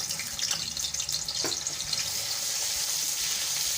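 Ginger garlic paste, two tablespoons, hits hot oil in a pan while cooking Chinese rice, giving a steady broadband hiss and crackle that carries unbroken from start to finish at moderate loudness.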